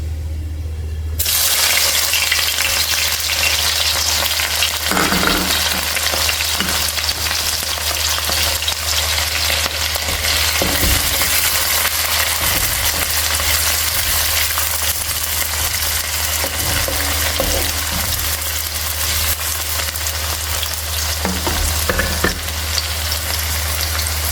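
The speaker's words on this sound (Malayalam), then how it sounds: "ഒരു ബ്രൗൺ കളറായിട്ടുണ്ട് ഉഴുന്ന് പരിപ്പ് അതിനകത്തേക്ക് നമുക്ക് കുറച്ച് ചെറിയ ഉള്ളി ഇട്ട് കൊടുക്കാം" Urad dal and small shallots frying in hot oil in a pan, a loud continuous sizzle starting abruptly and running steadily, with occasional stirring scrapes and no talk.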